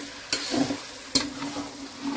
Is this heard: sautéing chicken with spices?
yes